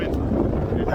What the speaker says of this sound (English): Today will be windy, I think